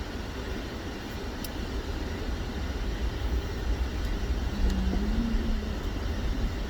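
Steady interior road noise from a car being driven, a continuous low rumble and hum with faint wind hiss, no one talking.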